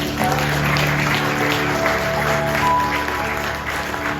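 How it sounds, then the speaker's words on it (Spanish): A church congregation claps steadily and enthusiastically for several seconds, a dense even wash of applause over a faint background hum. "Un fuerte aplauso, Señor."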